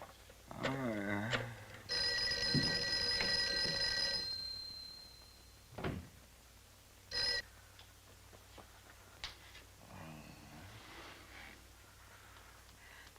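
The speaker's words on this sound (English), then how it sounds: "Mary, see if you can get Jan on the phone." An old-fashioned telephone rings unanswered in a 1950s B-movie scene: a sustained electric bell ring of about two seconds, a shorter burst later, and soft clicks and rustles in a quiet room.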